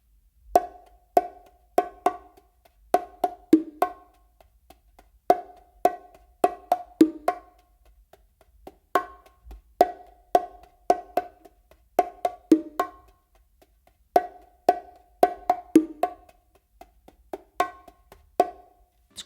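Bongos played slowly in the Brazilia pattern, sharp accented slaps mixed with soft ghost notes in repeating phrases, close and alone against a quiet background, with brief pauses between groups of hits.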